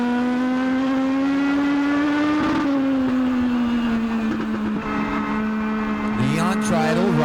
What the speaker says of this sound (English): Weller, Bowen, another little rubbing and racing down the front stretch between the 3 and the 95.